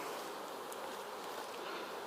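A dense, continuous buzz of a swarm of honeybees, close and steady, with no voices.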